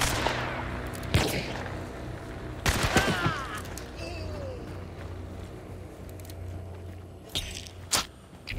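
Gunshots in the video game Hunt: Showdown: scattered sharp cracks, a few close and loud and others fainter and farther off, separated by long quiet gaps with low ambient rumble and some movement noise.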